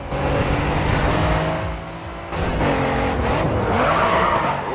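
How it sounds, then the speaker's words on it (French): A race car in the driving game Grid 2 drifts and skids, with a loud sustained engine roar and screeching tires. A brief dip comes midway before the roar surges again, with no voices. "Oh, joli dérapage."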